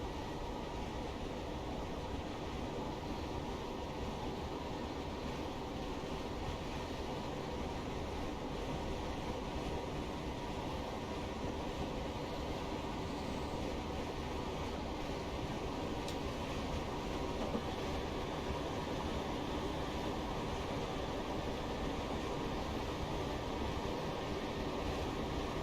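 A Class 321 electric train in Train Simulator Classic runs steadily on the London Euston to Milton Keynes line with a continuous, even rumble and a faint motor whine that stays constant throughout.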